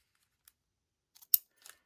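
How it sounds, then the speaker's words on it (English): Scissors cutting a paper bag for a holiday book craft kit, a few quick crisp snips with one sharp louder cut, close and isolated in near silence. "I got to get a scissors and scissor this"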